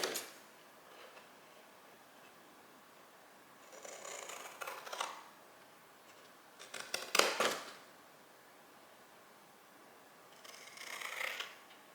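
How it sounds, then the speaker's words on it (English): Scissors cut through paper for a handmade gift box in three separate bursts of crisp snipping, each a second or two long, separated by quiet pauses in a calm indoor space. "Cut it up to the intersection line and stop, cut it up to the intersection line and stop."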